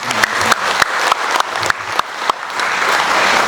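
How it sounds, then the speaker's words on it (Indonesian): Audience at a corporate company gathering bursts into loud, close applause, dense clapping with a few sharp claps standing out rhythmically before settling into a steady wash. "tepuk tangan yang keras buat teman-teman semua"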